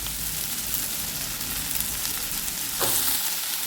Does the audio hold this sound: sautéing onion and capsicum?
yes